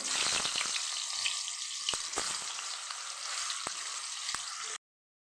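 Steady crackling sizzle of pumpkin slices frying in hot oil, close and continuous, with occasional sharper pops and clicks.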